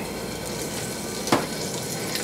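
Meatballs shaped with a cookie scoop fry a few at a time in a hot pan for Swedish meatballs, giving a steady close sizzle with one brief louder crackle burst midway.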